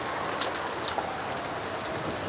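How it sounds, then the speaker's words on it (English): Heavy rain pours down steadily in a scene from the visual novel Umineko: When They Cry, a dense close hiss of drops with a few brighter spatters and no voices. "The rain poured down as though it had been saving up for this moment."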